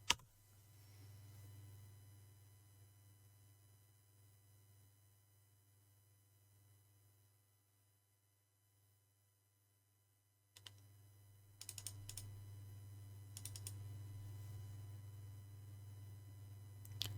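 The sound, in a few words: typing on a computer keyboard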